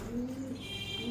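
Pigeons cooing where a large flock gathers and feeds, a soft low steady coo running continuously through a short stretch, with faint background hum and no talking.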